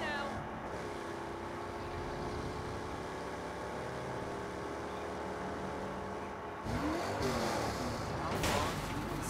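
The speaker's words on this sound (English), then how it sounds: "I love that sound when you drift and you hit our engine." Car engine revving during a drift in the video game Saints Row, a steady droning motor with shifting pitch, then a sharper surge and tire noise near the end.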